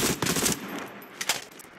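Rapid automatic gunfire rattles in Call of Duty Mobile battle royale, one short burst followed by a few sharp shots, loud and close.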